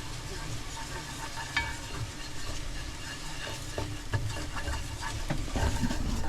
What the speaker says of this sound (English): You can sprinkle and stir at the same time, I think?